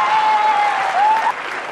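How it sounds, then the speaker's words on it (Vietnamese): Loud, close applause from a small group, dense clapping that holds steady, then drops slightly toward the end, with a thin whistle-like tone running through the first part. "Chưa có gì phải vỗ tay"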